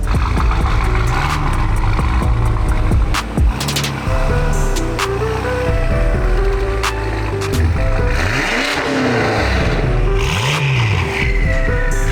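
A BMW F10 M5 with a VRSF exhaust accelerates hard on the road while warming up its Pirelli tires. The engine note climbs and falls loudly through repeated rising revs, close up and without talk.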